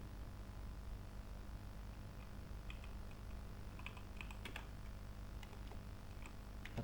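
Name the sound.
typing a message on a computer keyboard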